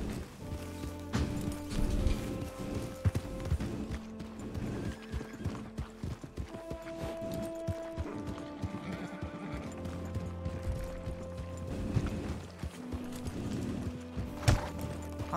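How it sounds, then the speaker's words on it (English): Horse hooves clip-clop steadily while a horse neighs and whinnies, with a busy, layered game soundscape running underneath. "jump on the back of Lewis's horse for me"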